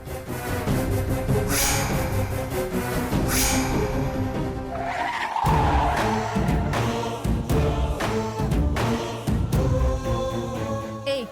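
A car is driven straight at a person, its tires skidding and squealing loudly in long bursts over a roaring engine, with a sharp screech peak midway and dramatic music running underneath.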